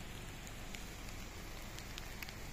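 Steady rain falls in a dense, even hiss on an off-road trip, loud and close with no pause and no voices.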